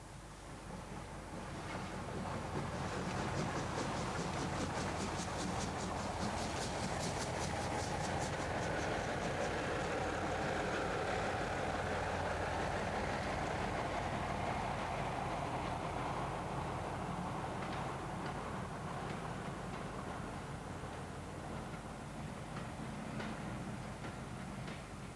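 An LNER steam express passenger locomotive hauls a train out of Marylebone, a loud, sustained rumble and roar that runs steadily throughout with faint rhythmic beats.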